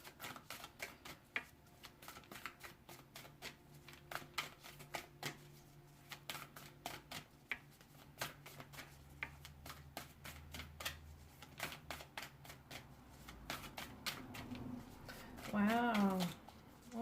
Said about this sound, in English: Wow, almost 2 minutes of shuffling.